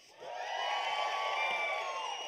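Audience at a town hall event bursts into sustained applause and cheering for a band of firefighting musicians, a loud, dense wash of clapping and whoops swelling in after a brief quiet start and holding steady throughout.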